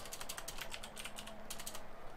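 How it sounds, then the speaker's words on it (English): Rapid bursts of keystrokes on a computer keyboard while chatting on Skype, close and fairly quiet, clicking in quick irregular runs with short pauses between them. "I'm typing in the Skype."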